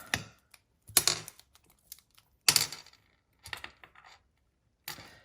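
Scissors snipping through a length of Magneto Madness ribbon during card crafting, a few separate crisp cuts spaced over several seconds, close and fairly quiet with silence between them.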